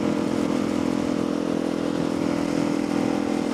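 A motorbike engine drones steadily and loudly while being ridden, a constant close hum with no speech.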